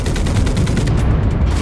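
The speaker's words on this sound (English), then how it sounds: "I forgot how to shoot the machine gun." Tank-mounted machine gun firing in the shooter game Enlisted, a dense, loud, continuous burst of rapid shots with heavy low rumble.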